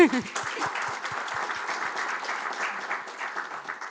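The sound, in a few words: audience applause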